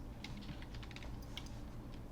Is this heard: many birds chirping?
no